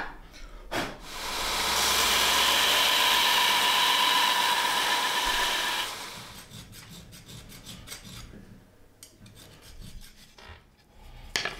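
A belt sander grinds a katana fitting with a steady broadband roar lasting several seconds, then gives way to scattered rasping and scraping strokes as it winds down.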